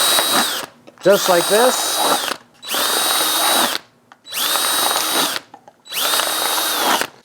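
A power drill bores drainage holes through a stacked set of red solo cups, in four or five sustained bursts separated by short pauses, loud and close, with brief speech at the start.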